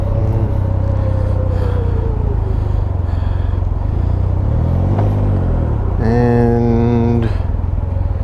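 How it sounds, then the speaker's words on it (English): Cars pass in steady, heavy traffic beside an idling Can-Am Ryker, a constant loud engine rumble with vehicles swelling and fading nearby and one rising, revving engine near the end. "right now a lot of cars going through"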